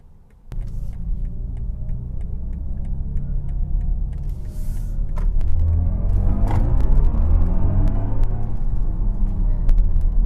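BMW i4 M50 electric car's synthetic drive sound played through its speakers while driving, a steady low hum and rumble with tonal layers that swell and shift in pitch as speed changes, with no talking.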